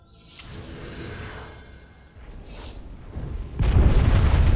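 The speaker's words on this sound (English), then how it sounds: "Explosion" A game explosion in Dragon Age: Origins, set off in a phylactery chamber, bursts in loudly near the end after quieter rumbling and whooshing, with no talk over it.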